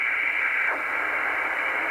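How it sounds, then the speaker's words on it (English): CODAR shortwave ocean radar signal received on a radio: a steady hissing band of noise with a faint sweeping chirp, continuous and alone. "So if you hear what sounds like this, you are listening to CODAR, which are radars"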